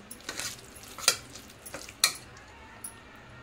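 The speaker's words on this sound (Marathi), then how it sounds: "आता चमच्याने मी चांगले त्याला घोटून घेते डाळीला।" A spoon scrapes and clacks against a metal pot, mashing cooked dal in irregular strokes, with soft mushing sounds between the sharper knocks.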